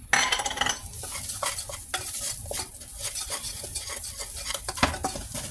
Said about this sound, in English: Go ahead and fold all those seasonings there.